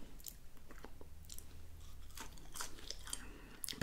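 Close crunchy chewing of Five Guys style french fries made from real potatoes, soft repeated bites and mastication clicks over about four seconds, intimate and quiet with no talk.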